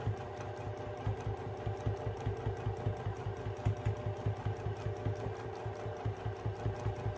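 A sewing machine stitches a free-motion quilting swirl on a sashed half-hexagon quilt, its needle hammering in a fast, steady, close rhythm that runs continuously with no speech.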